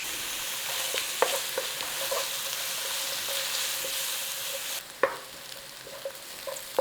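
Chopped onion frying in olive oil in a pan gives a steady, close sizzle, broken by a few sharp clicks and clatters as it is stirred, with a louder knock near the end.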